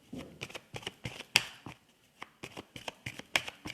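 Tarot cards being cut and shuffled, a series of sharp close flicks and slaps in irregular bursts with short gaps between, no voices.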